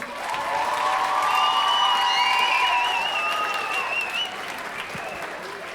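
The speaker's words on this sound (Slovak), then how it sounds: "Nech sa páči, veľký potlesk poprosím." Audience applause fills a semifinal of the Zlatý Amos 2013 contest, steady and loud for about five seconds and slowly thinning toward the end, with a few voices and a faint whistle-like tone riding over the clapping crowd.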